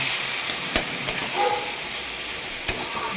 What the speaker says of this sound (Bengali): আলু আর কুমড়োটাকে দিয়ে দিলাম একটু ভাজা ভাজা করে নিচ্ছি